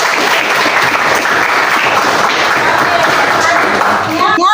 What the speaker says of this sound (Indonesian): Aplaus untuk Dias.